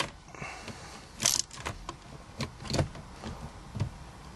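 Loosening the adjustment on a 6-speed solid shifter in an Audi B6-B7 A4, S4 or RS4, a series of close metallic clicks and ratchety taps from a tool, irregular and fairly faint.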